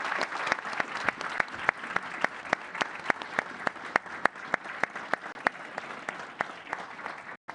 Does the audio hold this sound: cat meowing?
no